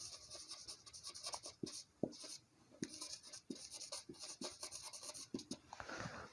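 A pen scratches steadily across paper while journal entries are written out, giving close, soft, rhythmic strokes with short pauses between words.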